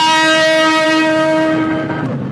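A train sounds a loud, sustained horn at Kamalapur railway station in Dhaka, one steady blast that holds for about two seconds before fading slightly, with no voices.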